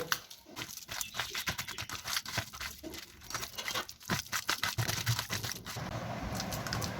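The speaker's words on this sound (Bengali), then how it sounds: "এঁচোড়টা ভালো করে চটকে মাখিয়ে নেব।" Boiled green jackfruit mashed by hand in a kitchen gives soft, wet squishing and crinkly pressing noises in a continuous irregular rhythm, close up with no voices.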